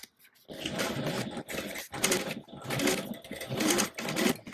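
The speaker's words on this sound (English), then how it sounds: "And then I'll baste the other side on the same way." A sewing machine bastes fabric for a tote-style beach bag, running in several loud, close bursts of rapid stitching separated by short pauses, with no talking.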